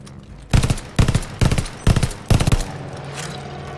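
Five rapid automatic gunfire bursts from Call of Duty: Vanguard, loud and close, evenly spaced about half a second apart with a faint background hum between them.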